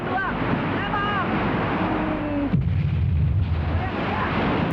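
Over a rushing, wind-like roar with faint voice-like tones, a sudden cannon blast lands midway, leaving a deep rumble afterward.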